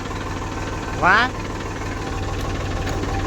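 A tractor engine idles steadily on a farm during harvest threshing, a low, even rhythmic throb throughout, with one brief exclaimed word over it.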